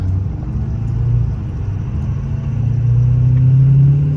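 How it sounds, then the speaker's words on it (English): A Ford 6.7 Powerstroke diesel truck with a 5-inch exhaust accelerates moderately onto a highway, heard from inside the cab as a low steady rumble and drone that rises gently in pitch, muted and continuous. "I'm gonna pull out onto the highway here, do kind of a moderate acceleration, and you'll see just how quiet it is in the cab."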